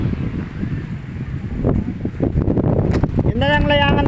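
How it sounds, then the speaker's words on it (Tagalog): Strong wind at a kite-flying outing buffets the microphone in steady gusty rumbles while people talk and shout over it. "Sobrang lakas ng hangin."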